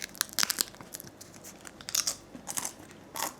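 Close, crisp crunches as a crunchy stuffed pancake is bitten and chewed, a series of sharp irregular crackles over about three seconds with no talk.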